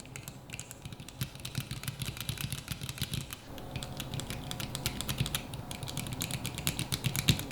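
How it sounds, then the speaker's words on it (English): Quiet, steady typing on a tiny gaming keyboard with Cherry MX Red switches. Rapid overlapping keystroke clicks continue throughout, picking up slightly in the second half, with no voices. "this thing, I forgot to mention, also has Cherry MX red switches."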